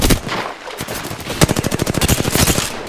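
Rapid automatic gunfire in the Apex Legends video game, a loud, fast series of evenly spaced shots filling most of the clip after a few scattered opening bursts.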